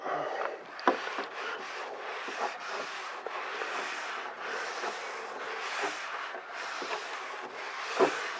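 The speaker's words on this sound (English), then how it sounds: "We'll clean this off here with some rubbing alcohol." Rubbing alcohol being wiped across the back side of a 2018 Honda Civic rear deck spoiler, a continuous close rubbing and scuffing with occasional light knocks.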